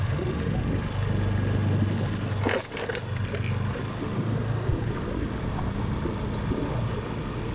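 Steady, loud wind buffeting from riding a vehicle outdoors, a continuous rushing roar with a brief dip near the middle, no talking.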